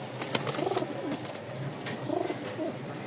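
Pigeons cooing in a small group of seven kept for sale, soft throaty coos in two separate bursts, close and fairly quiet, with light rustling and wing shuffles between them and no talk.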